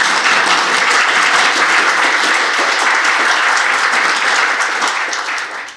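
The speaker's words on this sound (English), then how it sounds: "Let's give them a round of applause." Audience at a scientific conference session on AI applauds, a dense sustained clapping from a full room that stays loud throughout, then thins slightly at the end.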